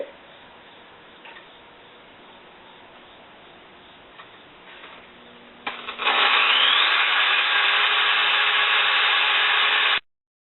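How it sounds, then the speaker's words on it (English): A power drill bores holes into wood while building a bird hotel, a steady loud whirring drone that starts abruptly mid-clip and runs for about four seconds before stopping, preceded by quieter handling noise. "I'm going to actually drill the holes"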